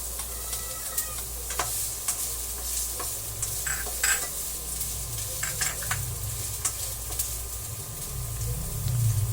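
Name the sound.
sautéing onion in oil in a pan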